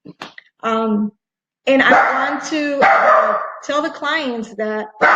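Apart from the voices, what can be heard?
puppy barking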